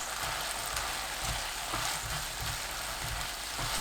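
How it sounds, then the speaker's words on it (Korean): Garlic stir-fried over low heat with cheongyang and red chili peppers gives a steady, even sizzle with soft crackles, close and uninterrupted, with no talking. "바로 청양고추, 홍고추 넣고 2분 30초 볶아주세요"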